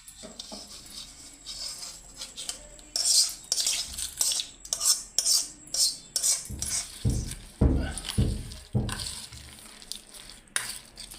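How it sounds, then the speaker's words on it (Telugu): Spoon mixing vakkaya (karonda) pickle in a dish, repeated scraping and clinking strokes against the bowl in an uneven rhythm, close and prominent, with no voices. "బాగా కలిపేసుకోవాలి"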